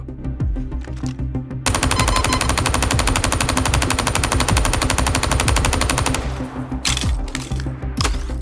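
Rapid automatic gunfire in a video game, a long continuous burst of loud fast shots, then a pause and a few shorter bursts and single cracks toward the end.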